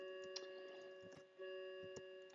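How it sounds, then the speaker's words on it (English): A clock ticks quietly in the background of a Roblox gaming session, giving faint, regular clicks under a steady electronic hum, with no talking. "If you hear a ding dong in the background, that's just my clock."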